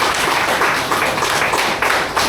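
A church congregation clapping together during a sermon, a dense, loud wash of many hands applauding steadily from start to finish.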